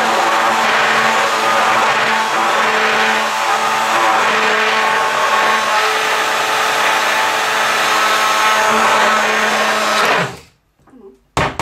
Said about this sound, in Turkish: Bir blender ile çekiyorum.